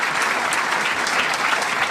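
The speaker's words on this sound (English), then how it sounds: "Please give them a round of applause." A State of the City audience bursts into dense, sustained applause, loud and even throughout the short stretch with no voices on top.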